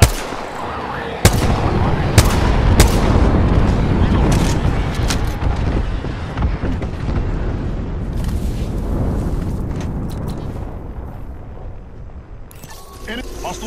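Video game gunfire cracks out in sharp, loud single shots spaced across the first seconds, over a heavy rumbling battle bed that thins toward the end, with voices talking over it.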